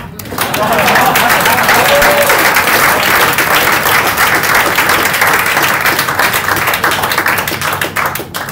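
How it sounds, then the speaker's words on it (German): Loud, dense applause from an audience at a startup hub presentation, many hands clapping continuously for the full stretch, with a brief voice or two mixed in near the start. "Deswegen nochmal bitte einen ganz großen Applaus an Mike"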